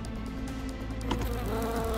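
A fly buzzes close by for a couple of seconds, a steady droning hum with slight wavering in pitch, heard alone without speech.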